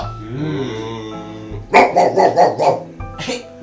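A human voice imitates a dog barking during a puppet guessing game, giving about five quick, loud bark-like yelps in a burst and then one more after a pause, following sung or spoken tones.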